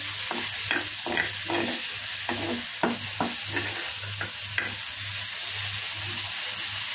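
Pumpkin greens stir-fried with onion and garlic in a pan, a steady sizzle and hiss with repeated scraping strokes of a spatula at a regular rhythm, close and continuous with no talking.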